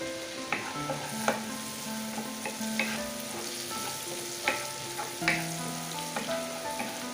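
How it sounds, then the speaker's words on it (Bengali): Garlic frying lightly in butter for buffalo wings, a soft continuous sizzle with crackling pops and occasional spoon taps against the pan, fairly quiet with no talk. "গার্লিকটাকে হালকা করে একটু বাটারের মধ্যে একটু ভেজে নিতে হবে"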